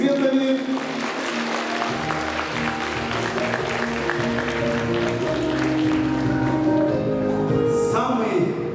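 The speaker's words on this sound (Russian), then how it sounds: "бурными аплодисментами" Audience at a Russian school last-bell ceremony for 11th-grade graduates claps steadily, a broad continuous patter of many hands with music and a voice running underneath.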